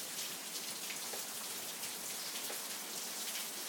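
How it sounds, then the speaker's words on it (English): A hard, steady downpour on a rainy Sunday gives a dense, even hiss, with crisp individual drops ticking nearby and nobody talking. "it's raining so hard right now"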